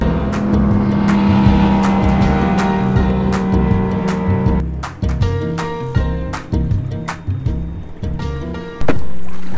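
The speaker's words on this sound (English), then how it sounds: "I'm gonna keep my my motor probably around setting number 5 or 6. So I'm just cruising" A motorized kayak's electric motor hums steadily on a middle power setting while cruising on the water, close and loud, with an even drone that gives way to knocks and splashy clatter later on.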